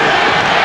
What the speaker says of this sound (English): The officials taking a lot of heat from the crowd close up on the floor.